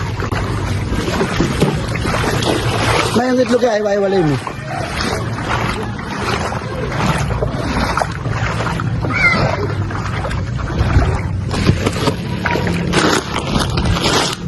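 A boat moves across floodwater while carrying relief goods, with a continuous rushing, sloshing wash of water, wind and occasional scraping knocks from the hull, while several people talk loudly nearby throughout.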